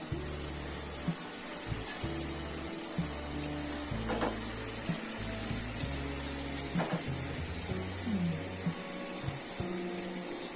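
Gulab jamun dough balls go into hot oil with a quiet, continuous sizzle and light bubbling, accompanied by faint clinks and a low intermittent hum in the background.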